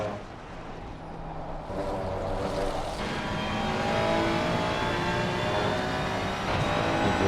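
Ferrari race car engine on the Barcelona-Catalunya circuit, a sustained roaring drone that swells and rises in pitch as the car accelerates, loud and continuous with no voices.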